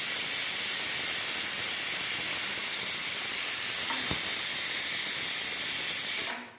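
A steady loud hiss of sizzling steam rises as a little water is poured into tomato masala frying in hot oil, holding constant for several seconds before cutting off abruptly.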